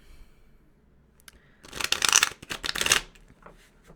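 Tarot cards being shuffled by hand, a quiet lead-in followed by two close, crisp riffling bursts of flicking and slapping cards, with no talk over them.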